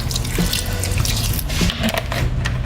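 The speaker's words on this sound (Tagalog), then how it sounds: "Lagyan natin siya ng kaunting tubig." Water is poured from a tap into a small bowl of vinegar dipping sauce with chili, a close, steady splashing gush running for a few seconds.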